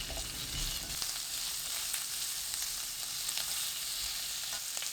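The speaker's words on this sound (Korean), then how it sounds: "달군 팬에 식용유 1큰술, 비엔나 소시지 넣고 센 불로 1분 30초 볶아줍니다" Vienna sausages stir-fry in a tablespoon of cooking oil in a preheated pan over high heat, giving a steady, close, continuous sizzle and crackle that never lets up.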